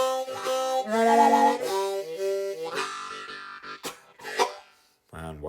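A harmonica plays through a 5-4-1 blues chord progression, with a series of held, wavering chords and bends, then a short pause before a final chord.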